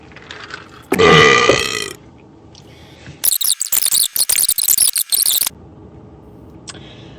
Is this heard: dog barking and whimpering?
no